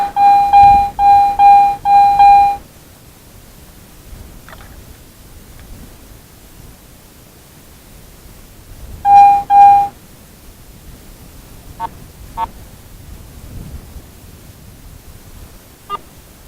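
A Garrett metal detector gives a loud, rapid burst of pulsing beeps on a target during an outdoor coin hunt along old roads. A second short burst follows after a quiet stretch, with faint clicks and chirps in between.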